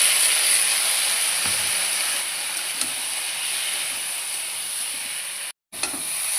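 A ground paste of ginger, garlic and green chili with salt and turmeric sautéing in a pan with potato and onion, a smooth steady hiss that eases slightly partway, with a few faint taps and a short dropout.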